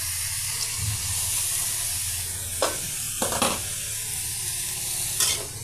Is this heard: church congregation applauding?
no